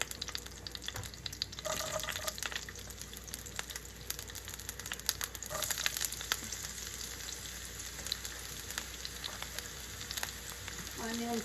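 Onions fry in oil for a bitter gourd stir-fry: a quiet, steady sizzle with scattered light clicks and crackles, heard close with no voices.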